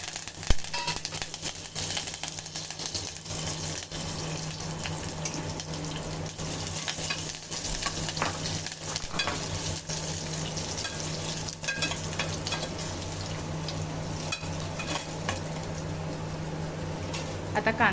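Garlic, cumin and curry leaves frying in hot oil for kadi bhaji, a continuous close crackling sizzle with occasional stirring, steady for the whole stretch with faint talking underneath.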